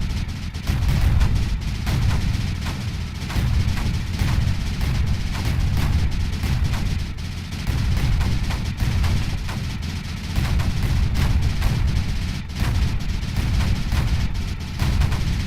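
Mortars in the Creeper World 4 video game fire in a dense, continuous barrage of overlapping booms and thumps, with rapid bursts stacking on one another throughout and no talk over them.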